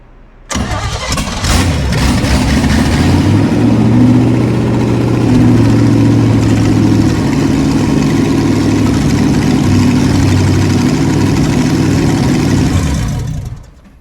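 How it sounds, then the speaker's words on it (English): An old 1972 Chevrolet K20 4x4 pickup engine, unrun for 15 years, cranks and catches, then settles into a loud, rough, throaty idle through open exhaust manifolds that rumbles steadily before cutting off. "Open exhaust, open manifolds, so it doesn't sound the best, but actually runs pretty good."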